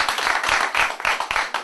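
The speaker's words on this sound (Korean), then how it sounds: "다시 박수 부탁드리겠습니다." Audience applause at a launch demonstration for a rock-fishing rod and a field staff workshop, with a short, dense burst of clapping that is close and fairly loud.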